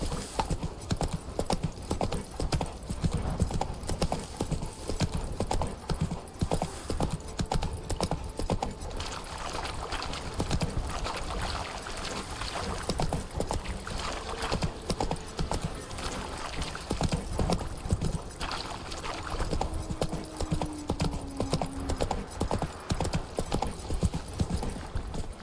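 Roach, Geralt's horse in The Witcher 3, gallops with a loud, fast, rhythmic clatter of hooves that runs unbroken throughout, over a faint game ambience.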